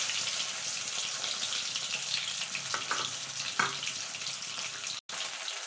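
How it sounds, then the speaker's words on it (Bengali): Duck eggs fry in hot oil in a home kitchen pan, giving a continuous bright sizzle with a few louder crackling spurts and a brief dropout, heard alone without talk. "ডিমগুলো ভাজা হয়ে গেছে"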